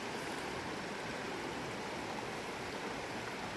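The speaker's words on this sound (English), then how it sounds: "I'm just walking along this creek." Creek water at the Walls of Jericho in Alabama flowing in a soft, steady hiss and rush, faint and unbroken throughout, with no voices.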